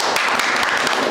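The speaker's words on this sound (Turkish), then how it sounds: "Bir alkış alalım Fatih Terim'e" An audience claps for a surprise guest at a vlog event in Suruç, a thick, even burst of many hands applauding up close, loud and continuous with no voices on top.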